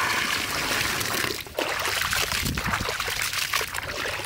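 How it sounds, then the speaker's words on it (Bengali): Water pouring and splashing while fish is rinsed for steamed katla, a continuous close trickling stream with a brief dip partway through. "আর একবার ভালো করে ফ্রেশ করে ধুয়ে নেব"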